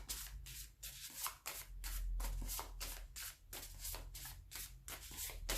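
Oracle cards being shuffled and handled in a card reading, a steady run of crisp, close riffling and sliding strokes repeating in quick rhythm throughout, with no voices.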